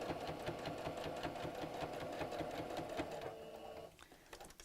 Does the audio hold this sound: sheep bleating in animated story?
no